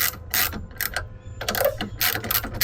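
Ratchet wrench fitted with a 13 mm socket, clicking in quick separate bursts of close, crisp pawl ticks with short pauses between strokes.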